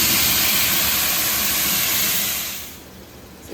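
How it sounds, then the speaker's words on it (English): Red wine hits a very hot cast iron pot for a pot roast, giving a loud, steady steaming hiss that holds for about two and a half seconds, then drops off sharply to a softer sizzle. "we're going to deglaze with some red wine"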